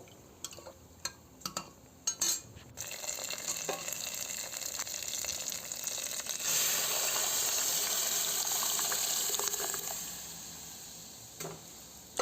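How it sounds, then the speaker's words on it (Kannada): Cooked moong dal goes into a sizzling tempering for a home-style lentil saaru. A few light clinks come first, then a loud, close rushing sizzle-pour holds for about three seconds before fading back to quiet. "ನೆಕ್ಸ್ಟ್ ಈ ಬೇಳೆನ ಒಗ್ಗರಣೆಗೆ ಹಾಕಬೇಕು"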